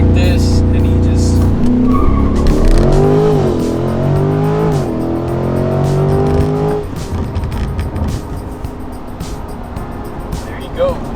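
A C8 Corvette launches with launch control: the engine roars and climbs through the revs as the tires squeal loudly up close, then the noise drops back to a rougher rumble as it pulls away.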